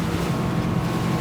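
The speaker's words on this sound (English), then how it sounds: "here we are, navigating peacefully around Palmaria and Tino until 50 knots" A Ranieri Cayman 45.0 Cruiser maxi RIB with a two-step hull runs at speed around Palmaria and Tino, its engine roar mixed with rushing wind and water in a loud, steady, close wash.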